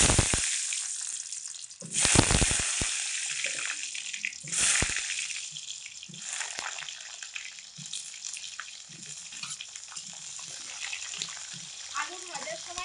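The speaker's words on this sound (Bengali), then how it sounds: "গরম তেলের মধ্যে এরকম সাইজ করে ডুমো ডুমো করে আলু কেটে নিয়েছি" Diced potatoes drop into hot oil in a wok, setting off a loud burst of spattering, then a steady crackling fry that continues close by, with some talk heard over it.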